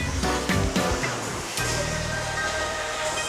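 Roaring Doğançay Waterfall in Sakarya, Turkey, heard from close by behind the falls, a dense continuous rush of falling water up close, with a low tonal hum running underneath.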